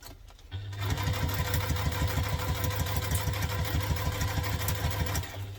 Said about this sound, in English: we're going to take that to the sewing machine and we're going to sew that with the seam allowance stated in the pattern